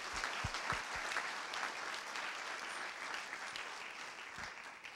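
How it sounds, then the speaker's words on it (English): An audience claps steadily throughout, a dense, sustained round of applause with a few louder individual claps near the start. "Would you join me in a round of applause for our sponsors?"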